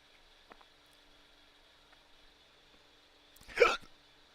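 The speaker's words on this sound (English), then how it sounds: "Now I got the hiccups." A single sharp hiccup from a person, close and loud, after a few seconds of near silence with faint room noise.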